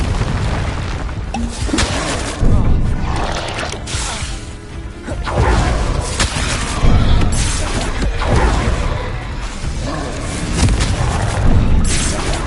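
Confringo spell blasts in Hogwarts Legacy on PS5, a string of loud booming explosions with crashing impacts repeating over a dense, busy game soundscape, no voices.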